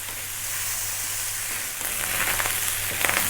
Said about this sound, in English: You can hear that rice frying